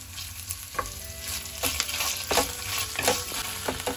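Onions fry in a pan as ginger garlic paste goes in for a paneer masala gravy, a steady close sizzle broken by several scraping stirs of a spoon, with no talking.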